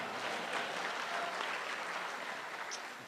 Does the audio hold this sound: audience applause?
yes